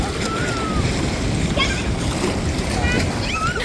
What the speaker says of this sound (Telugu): వాటర్ చాలా చాలా స్పీడ్ గా ఫ్లో అవుతుంది ఇక్కడ